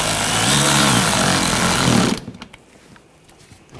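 A power tool driving screws while a drive belt is replaced on a 2014-2020 Nissan Rogue 2.5L four-cylinder, a loud close buzzing whir that runs steadily for about two seconds and then stops, followed by faint handling noises.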